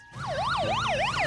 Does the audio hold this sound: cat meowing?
no